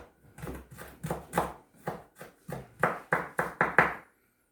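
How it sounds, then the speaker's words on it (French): A knife chops Mexican salad ingredients on a board in steady, close, crisp strokes, about a dozen evenly spaced thuds that quicken slightly toward the end, then stop. "Je le hache, voilà."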